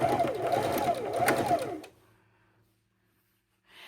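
A sewing machine runs steadily for under two seconds, stitching strips of blue fabric scraps together for a quilt, its rhythmic whirring needle clatter close and clear before it stops and leaves near silence.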